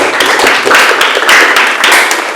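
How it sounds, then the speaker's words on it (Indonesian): Classroom clapping for a student group after their presentation, a dense patter of many hands close by, steady and fairly loud for a couple of seconds. "boleh tepuk tangan buat kelompok 4."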